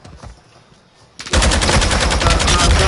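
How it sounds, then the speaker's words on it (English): Heavy, continuous gunfire from a shotgun in a PS4 video game erupts loudly after a quiet start and keeps roaring with dense, rapid blasts to the end. "Damn shotgun"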